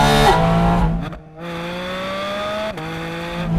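A Porsche 718 Spyder RS sports car engine roars loud and close, dropping off sharply before rising again in a steady climbing pull, with a brief shift near the end.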